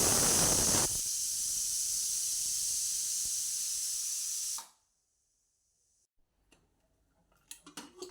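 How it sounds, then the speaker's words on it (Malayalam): A pressure cooker on the stove, cooking small carrot pieces, lets out a loud continuous steam hiss that cuts off abruptly after a few seconds, followed by quiet and faint clinks. "പിന്നെ ക്യാരറ്റ് ചെറിയ പീസാക്കി കുക്കറിലൊന്ന് വേവിക്കുന്നുണ്ട്. ഒരു 1-2 വിസിലടിച്ചാൽ മതിയാവും."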